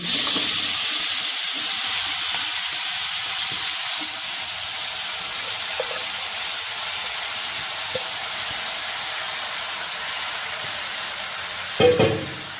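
Marinated vegetables hitting hot oil in a kadai for a loitta shutki chorchori, a loud, steady hiss and sizzle that slowly eases, with a brief clatter of stirring near the end.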